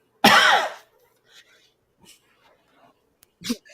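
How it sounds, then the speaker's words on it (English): A single loud, harsh cough up close, followed by quiet breaths and small mouth sounds, then a second, shorter cough. "I just want to apologize for this nagging cough that I can't get rid of."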